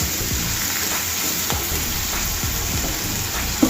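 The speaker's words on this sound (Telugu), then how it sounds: "ఒక 2 మినిట్స్ వరకు వీటిని ఫ్రై చేసుకోవాలి" Vegetables frying in oil over a medium flame, a steady close sizzle with soft crackles and a few stirring scrapes, loud and without talk.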